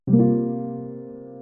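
One rich C dominant 13 sus4 chord is played on a keyboard and left to ring, decaying gradually; close, clear, and heard alone without speech.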